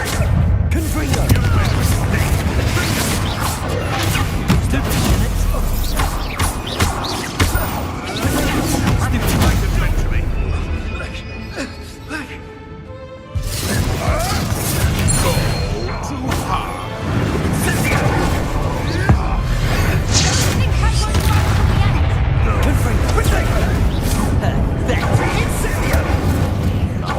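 Explosive fire-spell blasts in the Hogwarts Legacy video game, a dense run of loud booming bursts over a busy battle mix with a brief near-silent gap midway, while characters talk over it.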